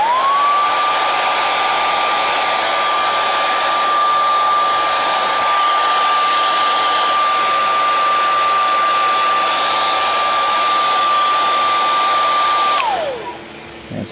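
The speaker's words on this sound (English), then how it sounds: "I'm going to hit it with a hairdryer just for a second now" A hair dryer on its cold setting blows steadily and loudly for about thirteen seconds with a constant motor whine, then switches off and spins down, with no talking.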